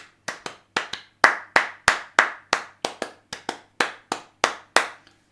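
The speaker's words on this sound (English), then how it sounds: "That would sound cool clapped." A single pair of hands claps a syncopated rhythm, crisp close claps with uneven spacing and short pauses, no voices.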